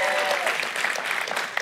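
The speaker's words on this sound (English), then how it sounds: "another round of applause for them." Brief burst of audience applause at a corporate keynote event, dense steady clapping filling the short moment with some overlapping tonal sound at the start.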